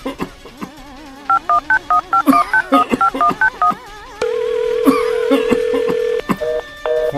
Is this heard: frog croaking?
no